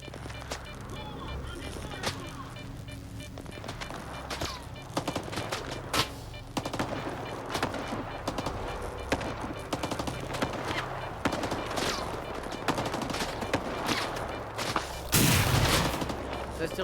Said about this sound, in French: Ça se tire dessus